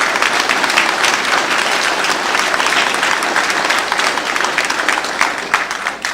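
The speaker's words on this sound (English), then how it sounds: "one more round of applause" A crowd at a candidates meeting claps in loud, sustained applause throughout, dense and continuous without pause.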